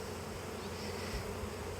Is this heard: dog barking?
no